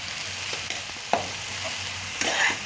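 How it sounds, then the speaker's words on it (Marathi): Spices, Kashmiri red chilli powder, salt and sugar are stirred into tomato soup in a pan, with a soft steady sizzle and three sharp spoon-against-pan clinks spaced a second apart. "आता ह्याला छान एकत्र मिक्स करून घ्यायचं आहे"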